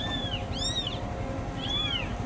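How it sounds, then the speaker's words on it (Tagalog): Soaking-wet abandoned kittens in the rain give three thin, high meows, each a short rising-and-falling cry, close by over a steady low background hum. "Kawawa ang mga kuting, oh."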